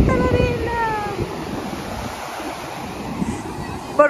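Ocean waves wash onto a sandy beach, a steady broad roar of surf and wind buffeting the microphone, with faint birdlike whistles early on and no clear speech.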